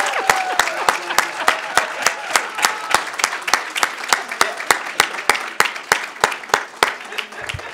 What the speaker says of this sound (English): If we can all please stand and give a hearty, hearty, hearty thank you and applause for Orsella.